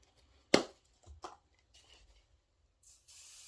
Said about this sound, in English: I'm just going to spray it with some light hairspray.